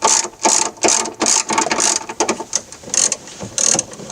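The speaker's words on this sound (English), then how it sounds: "start my 3 bolts." A ratchet drives in the wiper motor bolts on a 1989 Chevy K1500, with rapid loud clicking bursts in quick repeated strokes and brief pauses between runs, close up and without talk.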